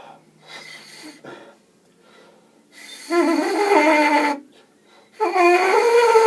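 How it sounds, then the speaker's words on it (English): Buzzing lip sounds for trumpet practice come in short bursts separated by quiet breaths, the last two longer and louder, with a raspy brassy tone. "hopefully your lips will start buzzing, and it'll make a buzzing sound like this"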